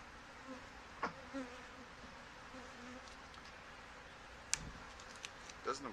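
Honey bees buzz faintly around an open hive with a bottom and top box, a soft continuous drone with a few brief clicks and rustles of handling close by.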